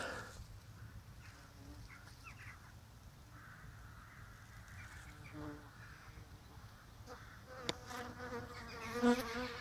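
Bees and a wasp buzz close at a beehive entrance, a steady insect drone with rising and falling whines, while crows caw in the distance and a voice speaks briefly.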